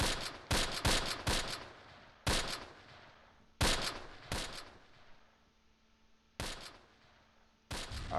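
Gunfire from a World War II tactical battle on a ridge line in the Close Combat strategy game: a string of sharp, loud shots in irregular bursts, each with a short decaying tail, with quieter gaps between them.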